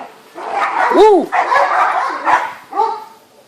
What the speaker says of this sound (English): Next door neighbor's dog Nala trying to jump over the fence.